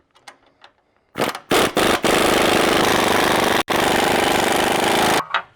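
A power tool on a Toyota Tundra 5-inch lift kit install snugs up 5/8 and 11/16 bolts, rattling hard in a couple of short bursts before a long, loud, steady hammering run with one brief break.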